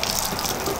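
Water gushes steadily from a hand water pump on a cocoa farm in Ghana, a continuous loud splashing flow filling the short moment with no speech.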